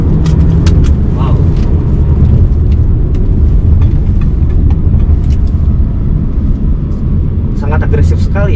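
A Morris Garage (MG) HS SUV with a turbocharged engine accelerating hard in super sport mode, heard from inside as a steady loud engine and road rumble with someone talking over it throughout.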